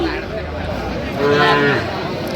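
A long, loud bovine moo rises and falls over about two seconds. It comes from Sahiwal breed bull calves at a busy cattle market, with crowd chatter and voices underneath.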